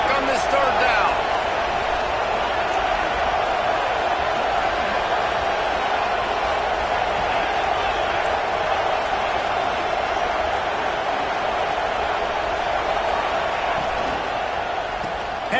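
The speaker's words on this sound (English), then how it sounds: "The crowd electric trying to help Tech on this 3rd down." Constant, dense roar of a stadium crowd at a college football game, loud and unbroken throughout, with a commentator's voice faintly present within the din.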